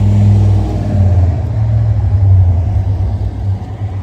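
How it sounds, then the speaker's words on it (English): Canada Post delivery vehicle's engine rumbling steadily at low pitch, close and fairly loud, with a slight rise and fall in revs and no voices. "Canada Post engines sound great, don't they?"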